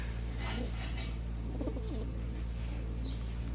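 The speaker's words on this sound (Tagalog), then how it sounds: "So yan yung mga kalapati natin." Pigeons coo in a loft, soft low throaty calls repeating over a steady background hum, close by with no talking.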